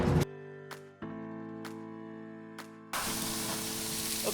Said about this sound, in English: Grilling these kufta kabobs that we made from scratch.